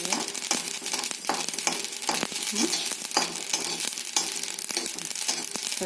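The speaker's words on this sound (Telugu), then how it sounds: "చిటపటమంటున్నాయి కదా" Seeds roast in a hot pan on a stove, turning black as they crackle and pop continuously in dense, rapid bursts close by, with scraping from stirring throughout.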